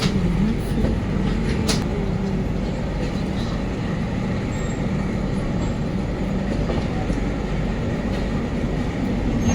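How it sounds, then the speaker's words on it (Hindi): Uttar Sampark Kranti Express (12445) rolling at about 130 km/h after leaving Jammu Tawi, a steady loud rumble and rattle of coaches on the rails heard from inside a 3AC carriage, continuous throughout. "जम्मू तवी से निकलने के बाद भाई ट्रेन ने 130 की रफ्तार पकड़ ली है"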